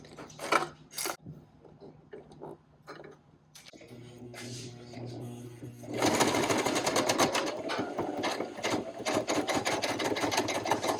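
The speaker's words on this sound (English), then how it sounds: "Yes, I am aware that this is not how the sewing machine should sound." A sewing machine labours through slick rain jacket fabric and adhesive-backed Velcro for a dog's rain jacket, with a few uneven stitches at first, then a loud, steady, strained mechanical hammering that runs on to the end.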